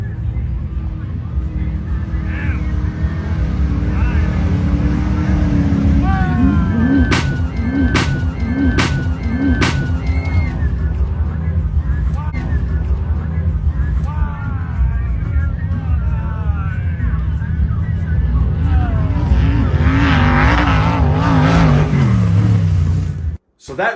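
A pre-runner off-road truck revs and roars across the Glamis sand dunes, loud and close, with engine pitch climbing and falling through several bursts and faint voices in the background.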